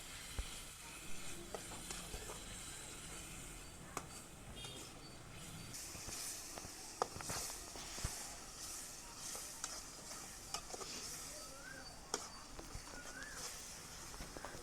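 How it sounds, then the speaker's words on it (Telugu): A masala of onions, tomatoes, green chillies, coriander and salt fries in oil for chicken biryani, making a soft, even sizzle and hiss with faint stirring knocks now and then. "బాగా ఫ్రై అయ్యేదాకా కలుపుకోవాలి."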